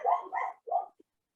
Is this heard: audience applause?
no